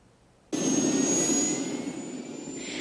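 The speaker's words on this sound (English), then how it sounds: "National Guard helicopters came and went." A National Guard helicopter roars in abruptly and holds a loud, steady whining rotor and engine noise outside an armory, easing slightly toward the end.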